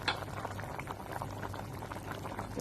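Steady, soft bubbling of Thai pickled mustard greens stew with bitter melon and pork belly simmering in a pot, a continuous low gurgle with faint pops and no voices.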